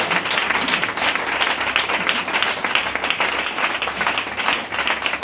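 A church congregation applauds during a service, a steady wash of clapping from many hands that stays fairly loud and even throughout, with no voices standing out.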